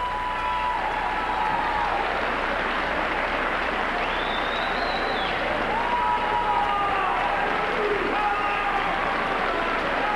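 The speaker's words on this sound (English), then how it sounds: "Big round of applause for the first unit of the Concrete Kids by their contingent and their crowd" A high school basketball crowd at a district quarterfinal applauds and cheers as substitutions come in, with a continuous roar of clapping and voices and shouts rising above it.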